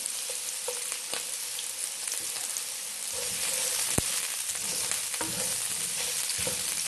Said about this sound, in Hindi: सबसे पहले कैरेट गई अंदर, इसको थोड़ा सा हम फ्राई करेंगे।